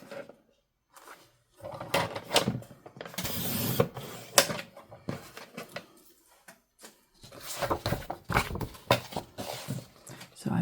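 An Epson EcoTank printer works in stretches of mechanical whirring, clicking and paper-feed rattles, stopping and starting with brief silent gaps, close and moderately loud.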